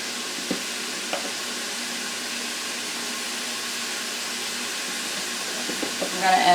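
Ground beef sizzles steadily in a pan, a constant broad hiss with a few soft clicks of stirring and a brief louder flare near the end.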